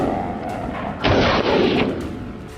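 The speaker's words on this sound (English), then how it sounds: "I fired rapidly, bullets chasing their frantic path." Gunshots fired at wild boar during a hunt outdoors: a loud, sharp burst of rapid shots lasting under a second, standing out clearly above steady background noise, with no talking.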